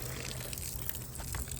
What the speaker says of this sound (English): with extra water to fill up everybody's bowls